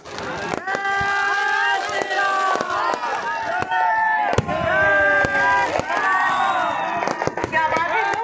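Fireworks burst at a Ravan Dahan Dussehra celebration at Gandhi Maidan in Patna, with repeated sharp cracks and pops over a loud, dense crowd din and cheering.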